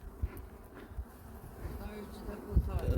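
Honeybees buzz at an opened beehive during a spring inspection after wintering, a low, steady hum up close with a few rustling knocks.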